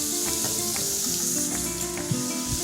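Lamb chop sizzling steadily in a hot pan as it is flipped onto its other side, a continuous close frying hiss with a small knock of the turn near the end, no voices.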